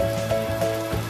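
Steady rain pours down during an outdoor rain bath, a dense, close hiss of drops on surfaces with no voices.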